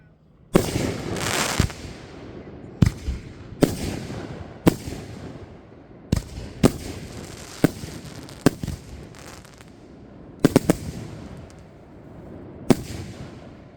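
An outdoor fireworks display at the 4th annual Trask show sends out about a dozen sharp, loud bursts at irregular intervals, each with a crackling tail, over a low background hiss.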